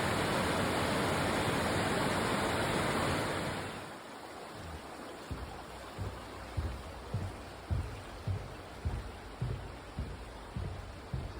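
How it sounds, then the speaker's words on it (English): Little Missouri Falls on the Eagle Rock Loop trail roars as a loud, dense wash of falling water for about four seconds, then drops to a softer steady rush under a run of rhythmic thumps like footsteps. "That must be Little Missouri Falls."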